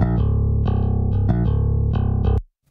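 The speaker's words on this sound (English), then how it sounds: "a programmed bass guitar." A programmed bass guitar from a rock DI session plays a steady run of thick, slightly distorted notes, loud and upfront, before stopping abruptly.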